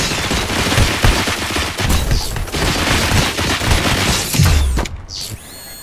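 Loud, dense gunfire from the RoboCop: Rogue City video game, a continuous stream of rapid shots and mechanical clatter with a heavy low thump near the end, then a brief ringing quiet.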